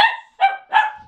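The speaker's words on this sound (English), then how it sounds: "Dog barking." Dog indoors in a house gives three sharp, loud barks in quick succession, close by with no other sound between them.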